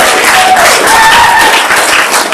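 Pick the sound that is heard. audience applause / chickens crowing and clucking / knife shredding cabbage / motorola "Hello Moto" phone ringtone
audience applause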